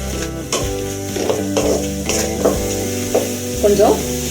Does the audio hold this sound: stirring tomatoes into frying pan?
yes